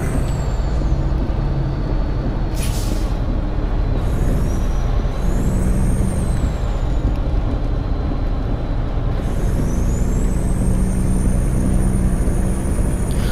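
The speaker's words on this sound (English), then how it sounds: "good sound engine, good sounding Jake brake." A heavy truck in American Truck Simulator drones steadily along with a loud, continuous low engine rumble under Jake brake engine braking, a high whine rising and falling above it, with no talking.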